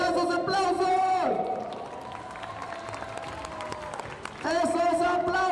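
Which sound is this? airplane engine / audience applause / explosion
audience applause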